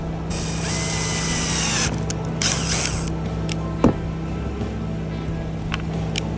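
A power drill driving a screw into an upper cabinet in a camper van whirs in two high-pitched bursts, the first longer than the second, then a single sharp knock follows over steady background hum.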